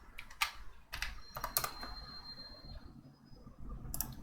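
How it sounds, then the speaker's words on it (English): Typing on a computer keyboard while coding comes as scattered bursts of sharp clicks with short pauses between them, close and fairly quiet, with no voice. "I don't know what I'm typing."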